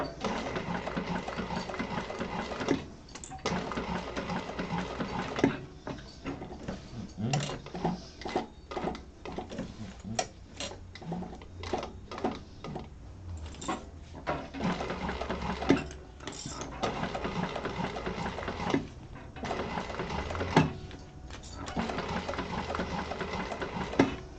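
A sewing machine stitches in short runs with pauses, its rapid clatter speeding and slowing as it is hand-cranked slowly around corners, close and moderately loud with no talking.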